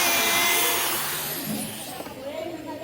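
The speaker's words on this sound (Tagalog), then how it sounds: "Look at our fan, our big fan." A big electric fan blows steadily indoors, a broad close whooshing roar that slowly eases slightly in strength, with faint voices mixed in underneath.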